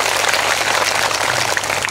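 An audience at an outdoor satsang gathering in Shivnagar claps to welcome children, giving a dense, steady wash of applause from many hands, loud and close.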